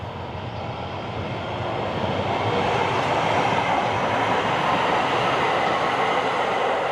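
A South Pasadena Metro light-rail train passes close by, a steady rumbling roar of wheels on track that swells and holds loud for several seconds, with no voices.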